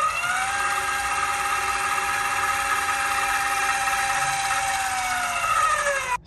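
An electric actuator closes a 4-inch proportional ball valve with a steady, whining motor drone that holds for about six seconds, then cuts off abruptly at the end of travel.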